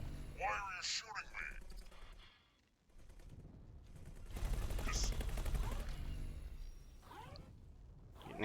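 Rapid bursts of ship weapons fire in space combat in the video game X4 Foundations, crackling in repeated volleys under someone talking.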